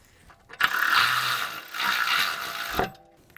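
A ratchet wrench spins rapidly on a BMW X5 (G05) front brake caliper mounting bolt while threading it in, two close bursts of clicking, loud and alone.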